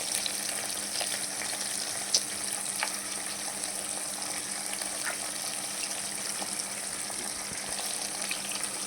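Oil frying in a pan for tomato chicken pulao, a steady, fairly quiet hissing sizzle with a few sparse pops and clicks.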